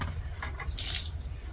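Water splashes out of an emptied car wash bucket, a short gushing pour with a few drips just before it, close by and moderately loud.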